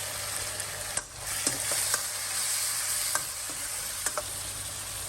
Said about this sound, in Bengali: এখানে আমি অ্যাড করলাম একটু গরম পানি।